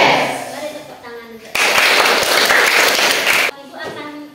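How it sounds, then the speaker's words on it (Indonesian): A class of students bursts into loud applause for about two seconds, a dense wash of many hands clapping, with a teacher's voice speaking before and after. "Mari tepuk tangan."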